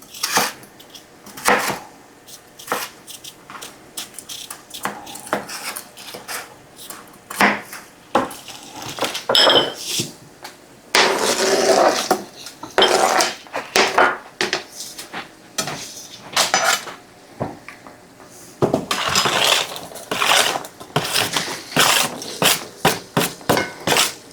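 Onions and peppers are chopped for kielbasa pasta, with repeated irregular sharp knocks and metallic clatter of knife and cookware, coming in dense bursts with brief pauses, loud and close, no talking.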